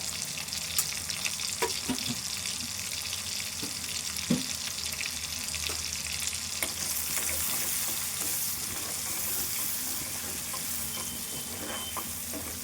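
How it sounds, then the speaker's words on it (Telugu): Onion and garlic frying in a pan for a gongura chicken curry, giving a continuous even sizzle with occasional light taps and scrapes, moderately loud and steady throughout. "ఉల్లిపాయ వేగాలి వెల్లుల్లి స్మెల్లే ఎక్కడ దాకా వస్తుందండి"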